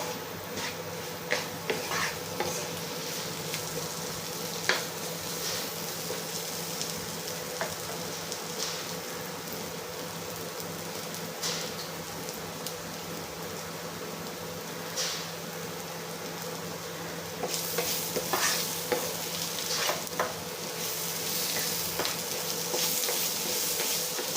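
Masala spices frying in a pan for an egg kootu, giving a steady soft sizzle with occasional scrapes and taps of stirring throughout.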